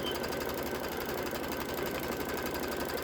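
An embroidery machine stitches out a Kimberbell flower pot design, running at a steady, fast, even mechanical rhythm with a continuous whirring hum, close and uninterrupted.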